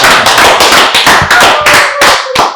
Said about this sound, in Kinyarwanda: namumpereye amashyi